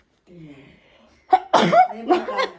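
A person sneezes close by, a short breathy wind-up followed by a sharp burst and a second smaller burst, with a soft voice heard just before it.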